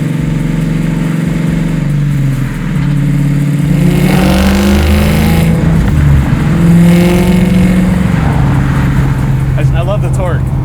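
A 700 HP supercharged LSA engine in a Chevy Nova rumbles loud and close, its pitch climbing under light throttle, while someone talks over it.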